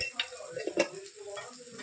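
A spoon scrapes and stirs through egg rice frying in a pan with masala, soft clinks of utensil on metal over a low, steady sizzle, close and quiet.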